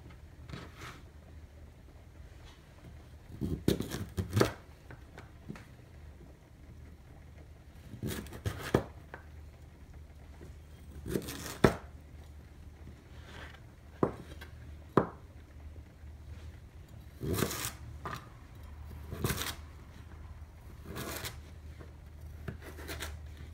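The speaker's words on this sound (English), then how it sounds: "So I got all my root vegetables chopped up" A knife chops root vegetables on a cutting board in a home kitchen, giving quiet, close, irregular knocks and scrapes in loose bursts separated by short pauses.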